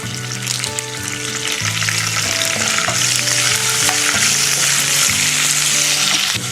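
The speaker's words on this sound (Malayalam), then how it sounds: "കറിവേപ്പിലയൊക്കെ നമ്മൾ നല്ലതായിട്ട് മൂപ്പിച്ച് ചേർക്കണം." Curry leaves frying in a pan for instant upma, a steady loud sizzle with stirring clinks, no talking.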